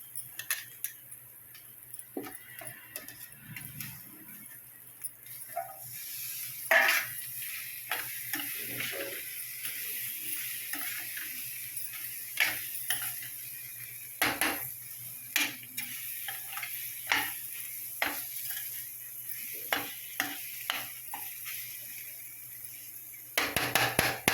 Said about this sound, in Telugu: ఉల్లిపాయ వేగిపోయిందండి, కాకరకాయ వేసేసుకుందాం.